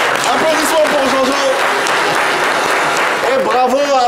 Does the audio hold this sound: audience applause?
yes